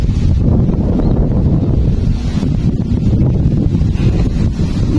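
Steady, loud wind roars and buffets the microphone throughout, with a dense low rumble and no voices.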